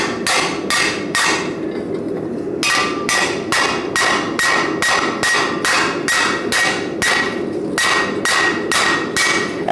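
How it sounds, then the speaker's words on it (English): A hard steel carpenter hammer strikes metal to texture it during blacksmithing, with rapid, steady, loud ringing blows in a regular rhythm, close up, with a short pause partway through and no talk. "The carpenter hammer. This is the poor man's texturing tool."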